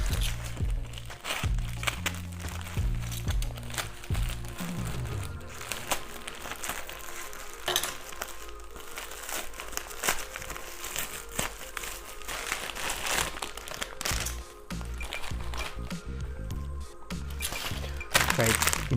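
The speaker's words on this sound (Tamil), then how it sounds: "ஸோ அடுத்த கிஃப்ட்டை நம்ம பிரித்து பார்த்துருவோம்." A gift package gets torn open and unwrapped close by, with continuous crinkling and crumpling of wrapping, plastic rustles and occasional thunks as the contents are handled, while a person talks over the noise.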